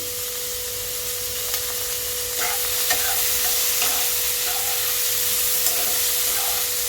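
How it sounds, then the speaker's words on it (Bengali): Spiced food frying in a pan with salt and turmeric gives a steady, close sizzle, with a few soft stirring scrapes spread through it and no talking. "দিয়ে এটাকে আমি একটু ভালো করে ভাজা করে নিচ্ছি"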